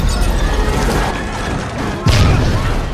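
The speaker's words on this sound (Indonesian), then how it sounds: "Ledakan tersebut membuat pesawat hancur sebagian" A mid-air bomb explosion partially destroys a plane in an action film, arriving as a sudden loud boom and crash after a stretch of dense, roaring background noise.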